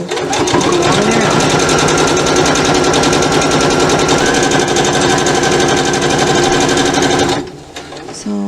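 A sewing machine runs steadily, stay stitching along the edge of ribbon skirt fabric with the presser foot, a fast continuous close mechanical chatter for about seven seconds before stopping, with brief quieter handling after.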